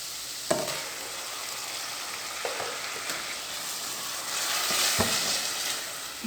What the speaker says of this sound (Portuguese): Quem gosta desse barulhinho de temperinho fritando?